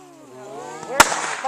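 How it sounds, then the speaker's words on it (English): A single sharp pop from a 5-shot Roman candle firework at a Fourth of July show on Lake Huron, loud and near, ringing briefly after a faint voice-like hum. "Our next set of 5-shot Roman candles. Here we go."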